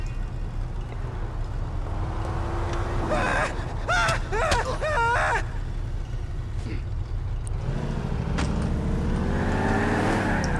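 A stolen four-door car in Grand Theft Auto IV drives with a constant low engine drone. A brief vocal sound cuts through the middle, then the engine swells and revs higher near the end.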